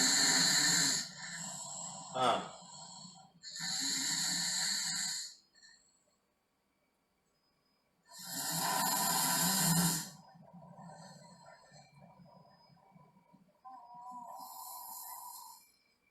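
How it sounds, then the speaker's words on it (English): A small child snores while asleep, with several long raspy breaths separated by quiet pauses, each one close and fairly loud. "Small child sleeping and snoring."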